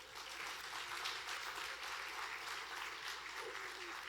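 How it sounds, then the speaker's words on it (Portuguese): A congregation at a church service applauds, a continuous, even patter of many hands at moderate distance that holds steady throughout, fairly soft overall. "Uma salva de palmas para ele."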